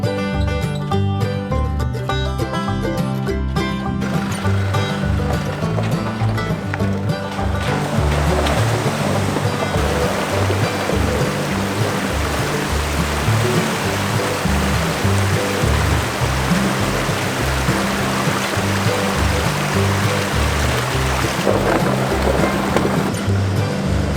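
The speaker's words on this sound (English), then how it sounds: "This river crossing was pretty cool." A vehicle fords a river crossing on a back road near Geraldton, with loud, continuous rushing and splashing water that holds a constant roar throughout after a brief different opening stretch.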